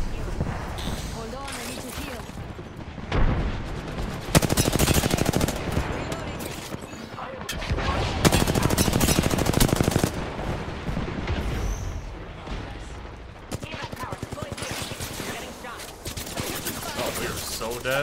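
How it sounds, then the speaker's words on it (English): Rapid bursts of enemy gunfire in the Apex Legends battle royale game, loud and repeated in clusters with explosive booms, over continuous in-game noise and voices. "The enemies are shooting at me"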